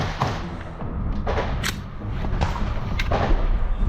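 Gunfire in combat near Avdiivka: several sharp shots and dull thuds crack out irregularly over a dense rumbling background, loud and fairly close, with no clear speech.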